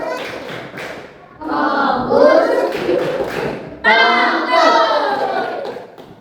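A class of schoolchildren claps together in rhythm, loud and close, with bursts of patterned hand claps mixed with children's chanting voices in unison.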